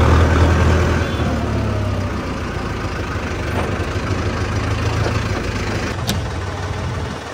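A Mahindra Arjun Novo 605 DI 4x4 tractor's diesel engine runs steadily nearby, a low continuous rumble with a slight fade after the first second and no talk.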